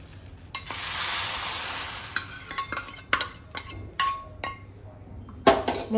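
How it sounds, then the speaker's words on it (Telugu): Ghee tempering sizzles in a pan, a steady hiss swelling early, then a metal spoon scrapes and clanks against the pan in irregular knocks and stirs, fairly quiet overall. "సో అవన్నీ కూడా మరిగిపోయాక తాలింపు వేసుకుంటున్నాను."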